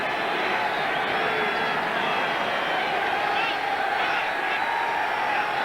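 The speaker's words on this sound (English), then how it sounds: "The crowd now chanting defense for the hometown 49ers on a third down play." Stadium crowd at a 1986 NFL game between the Minnesota Vikings and San Francisco 49ers, roaring steadily as the home fans chant defense on third down, a dense continuous wall of voices with no individual words standing out.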